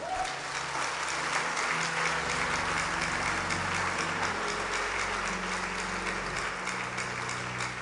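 A church audience keeps up loud, continuous applause and cheering, a dense wash of clapping that holds steady from start to finish with scattered voices mixed in.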